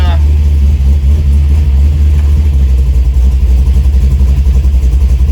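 A 1971 Chevrolet El Camino SS engine idles steadily at about 1100 RPM with a new TH350 transmission and TCI converter fitted, a loud, close, even low rumble with no talk.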